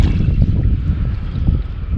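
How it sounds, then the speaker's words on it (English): Wind gusting across overgrown Hackberry Lake in the Nebraska Sand Hills, a loud continuous rumbling buffet on the microphone with uneven surges and no voices. "Oh, here comes the wind. It's windy."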